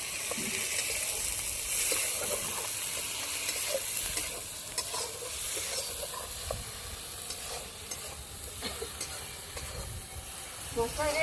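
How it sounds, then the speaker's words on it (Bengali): Spice paste with turmeric and salt fries in oil in a pan for a homestyle vegetarian cauliflower and potato curry, hissing steadily while a utensil scrapes and stirs in repeated strokes close by. "মশলাটা ভালো করে কষিয়ে নেব"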